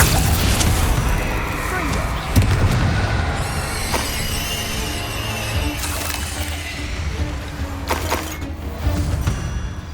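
Spell blasts from a Bombarda curse in the Hogwarts Legacy video game: booming explosions with shattering crashes over a busy fight-scene soundscape, several sharp hits across the stretch.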